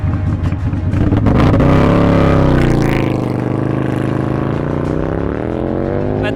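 A racing motorcycle built for Bonneville salt flats speed runs, capable of 196 mph, accelerates hard: a loud, close engine roar that sweeps upward in pitch, then settles into a sustained high howl.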